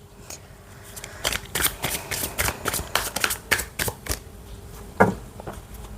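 A deck of oracle cards is shuffled up close, giving a quick series of crisp riffling flutters and soft slaps, with one sharper snap near the end, and no voice.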